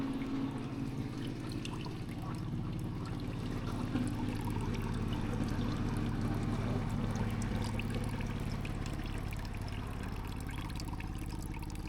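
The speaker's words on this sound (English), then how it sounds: "I'll let the filter run for a while before putting the two fish in, just to make sure everything is working properly." A newly set up fish tank filter runs in rural Vietnam, water pouring and splashing in a steady, continuous trickle close by, unbroken and alone with no talking.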